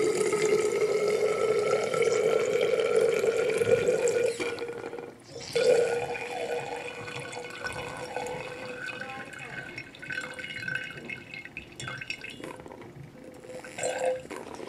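Water trickles and bubbles steadily as it is poured into a glass measuring cylinder in a lab, a close, gurgling fill that pauses briefly before resuming, with a voice speaking quietly.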